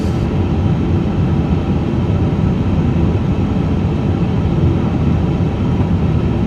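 An Airbus A350 in Microsoft Flight Simulator 2024 powers up for takeoff, with a loud, steady, dense engine roar and rumble that holds constant throughout.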